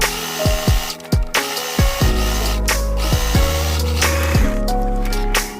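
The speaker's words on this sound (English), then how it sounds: "Then sew on the top at 1 inch." A sewing machine stitching a sink curtain hem at one inch whirs up and down repeatedly, its motor speeding and slowing in short, close, loud bursts.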